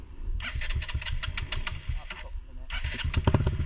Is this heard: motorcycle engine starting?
yes